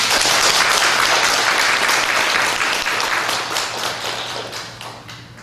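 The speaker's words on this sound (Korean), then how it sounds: "우리 모두 참 어머님께 뜨거운 감사의 박수를 올려주시기 바랍니다." Congregation at a church sermon gives sustained warm applause of thanks, dense overlapping claps filling the room and easing off slightly toward the end.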